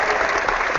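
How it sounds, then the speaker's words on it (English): Steady burst of added crowd applause, dense and continuous, loud and close, with no talking over it. "that is the clapping that Rhonda puts on there"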